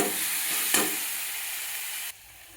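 Chili, garlic and coriander paste sizzling loudly in a hot pan with a steady hiss, then a brief stir before the sound drops sharply near the end.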